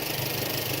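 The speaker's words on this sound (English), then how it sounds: "So let's see if we can get some intake noise here." A tuned BMW engine idles with intake noise, a steady loud rumble and whoosh close by, even and unbroken.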